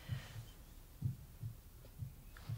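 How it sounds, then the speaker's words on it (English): Inside a village church farm, a faint low heartbeat-like throbbing repeats in soft double pulses, steady and even, against a quiet humming background. "It's like a heartbeat, isn't it?"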